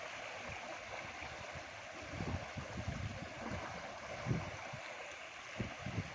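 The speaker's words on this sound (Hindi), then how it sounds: "देख रहे हैं जी पानी की आवाज़।" Water flows under a village bridge near Gujranwala with a soft, continuous rushing and gurgling. It sounds faint and distant, with a few low splashy thumps scattered through it.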